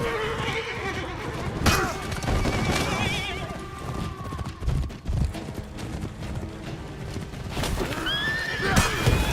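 Horses whinny repeatedly in a Viking-era video game battle, shrill neighs rising over hoof clatter and chaotic combat noise, with a player's voice speaking at times.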